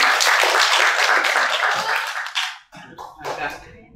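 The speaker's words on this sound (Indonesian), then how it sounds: "Kita kasih tepuk tangan." Applause from a webinar audience, broad and steady for about two and a half seconds, then tapering into a few scattered claps with a faint voice near the end.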